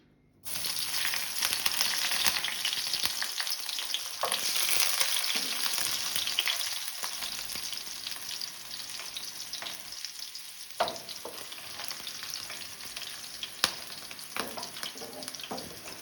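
Green chillies, garlic and curry leaves crackle in hot oil, a dense continuous sizzle starting abruptly and holding steady, with a few sharp pops and occasional stirring, close-up and with no voices.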